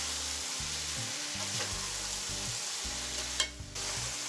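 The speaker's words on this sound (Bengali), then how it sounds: "নেড়ে মিক্স করে নিচ্ছি।" Vegetables tossed with spices in a hot pan for a Bengali rohu fish curry, a steady sizzle and frying hiss with rhythmic scraping strokes of the stirring spoon, close and continuous, no voices.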